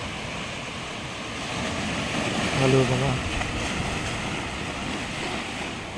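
Sea waves wash onto a Mumbai beach in a steady broadband roar mixed with wind buffeting the microphone, fairly loud and continuous, while someone briefly speaks a short greeting over it.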